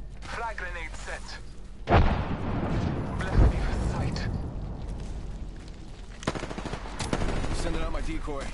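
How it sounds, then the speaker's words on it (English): Gunfire erupts in a console shooter game, with sharp close bursts and machine-gun rattle among explosions and thuds, while a voice talks over the action. "I am taking fire."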